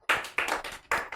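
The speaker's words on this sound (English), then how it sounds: "Clap." Sharp, loud hand claps in a classroom setting, about three or four distinct bursts in quick uneven succession, close by with no talking over them.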